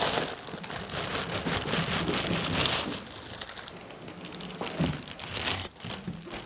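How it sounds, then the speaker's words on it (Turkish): A plastic bag crinkles continuously as an Anycubic Kobra S1 3D printer is lifted out of its cardboard box, a close, busy rustling and crackling with brief louder crunches and no talking. "Şimdi bu poşetiyle tutup kutudan makineyi ayırmayı deneyeceğim."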